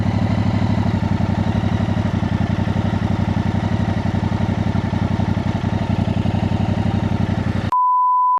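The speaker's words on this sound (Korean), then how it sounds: "자, 배기음 소리는 이렇습니다." A Yamaha R7 middleweight motorcycle's engine runs at a steady idle, its exhaust a continuous, even, throbbing pulse heard alone and close before cutting off abruptly into a short electronic tone.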